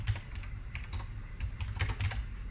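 Quiet, rapid clatter of computer keyboard keys being pressed in short irregular bursts for keyboard shortcuts, close by and with no talking.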